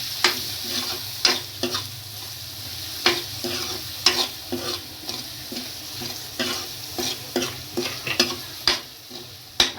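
Red chilli powder and ground coriander sizzle in a frying pan while a spoon stirs them, giving a soft frying hiss broken by repeated scraping clicks of the spoon against the pan, close and fairly quiet.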